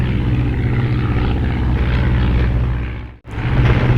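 A WWI-era biplane engine drones steadily and loudly in the flight game Red Baron 3D, a rough, buzzing propeller hum that briefly cuts out for an instant before resuming at full strength.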